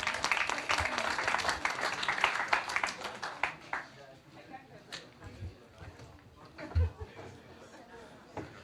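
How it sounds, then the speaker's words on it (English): An audience at a plenary session applauds, a burst of clapping that is loudest at first and then thins into scattered claps and murmurs as people settle, with some chatter mixed in. "Please clap your hands."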